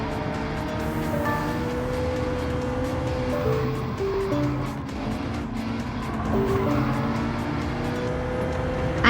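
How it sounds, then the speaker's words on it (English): Bugatti Veyron racing in Gran Turismo 7, its engine droning steadily with shifting tonal whine as it accelerates alongside other cars, loud and continuous throughout. "This Veyron just came out of nowhere. With its 1000 horsepower."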